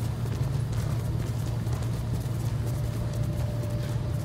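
A horse gallops in Ghost of Tsushima, a steady rapid drumming of hooves that stays loud and close throughout, with a low rumble underneath and no talking.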